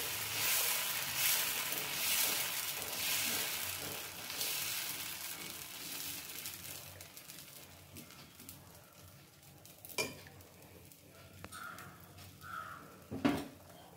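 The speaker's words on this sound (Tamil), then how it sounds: "இப்போ தோசைக்கல் நல்லா ஹீட் ஆகிடுச்சு, அதில் நம்ம அடையை ஊற்றிடலாம்." Tapioca adai batter on a hot dosa pan gives a soft, steady sizzle that fades over several seconds, followed by a few light clinks of utensils against the pan, quiet and close.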